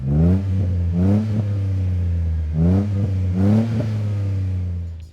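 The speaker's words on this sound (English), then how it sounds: "here's a clip so you guys can hear how this one sounds" Jeep Wrangler with a Magnaflow OffRoad Pro catback exhaust and bullet-style muffler replacing the factory muffler, heard up close as a steady idle broken by four sharp throttle blips, the revs coming in two pairs.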